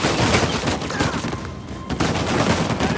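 Turret fire in the video game Uncharted 4 rattles out in a loud, dense burst of rapid gunshots, with a brief lull partway through before the barrage resumes at full force.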